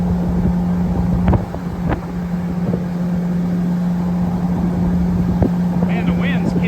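Wind buffeting the microphone aboard a jet boat cruising on a river, a continuous rushing roar over a steady engine hum, with occasional knocks and a voice speaking toward the end.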